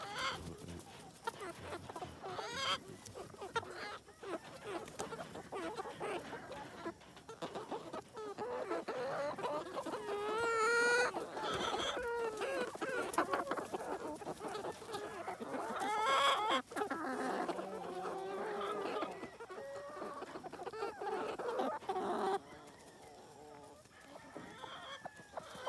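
Free-range chickens on a two-acre homestead cluck and murmur almost continuously, with some calls close and others further off, rising into busier, louder clucking partway through.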